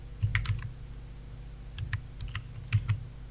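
Typing on a computer keyboard while entering text into a cash memo, heard as several quick bursts of close key clicks separated by short pauses, with no talking.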